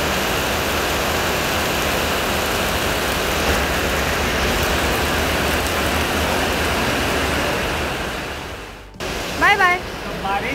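Heavy rain pours steadily in a dense hiss during a car journey from Dwarka to Mumbai, then eases. A brief, higher, squeaky sound follows near the end.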